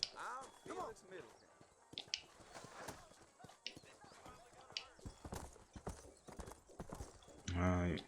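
Horse hooves clip-clop in the Red Dead Redemption game, a quick irregular trot at moderate distance, with a snort or whinny near the end.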